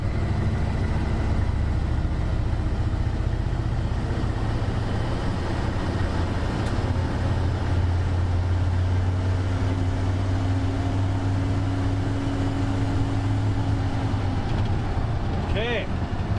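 A turbocharged farm truck engine runs steadily just off idle with a little throttle applied, a continuous low rumble with a faint rising whine near the end.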